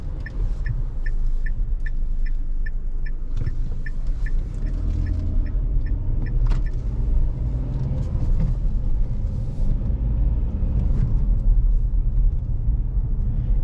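Dacia Duster 2024 with the TCe 130 HP 4x4 engine driving at night, a steady low road rumble and tyre noise throughout, with a soft regular ticking like an indicator for the first several seconds.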